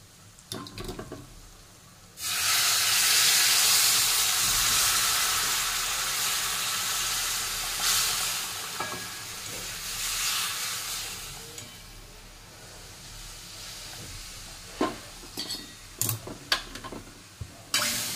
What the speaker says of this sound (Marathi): आता आपण त्यामध्ये गरम पाणी घालून घेणार आहोत।